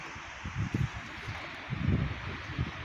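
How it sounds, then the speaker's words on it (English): Wind buffeting a microphone outdoors at Lake Spanaway, Washington, low gusty rumbles rising and falling in a couple of bursts. "It's quite windy out today."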